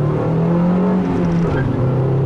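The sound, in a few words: 2004 Ford Focus SVT accelerating, chirping tires in second gear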